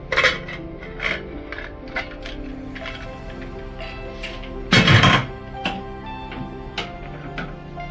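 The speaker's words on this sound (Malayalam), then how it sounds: "നമുക്ക് കുക്കർ തുറന്നു നോക്കാം." A pressure cooker holding cooked beef for erachi choru is opened, with scattered metallic clanks and thunks of the lid and a louder rushing burst midway, close by.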